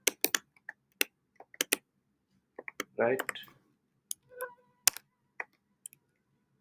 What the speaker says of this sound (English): I'm having issues typing on this new laptop.